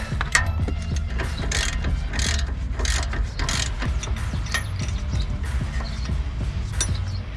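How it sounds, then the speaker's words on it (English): Ratchet wrench torquing the control arm bolts down tight during a suspension repair, a steady run of close, loud clicking strokes with mechanical clatter that keeps going throughout, and no talking. "Now I'm gonna torque those down and get them nice and tight."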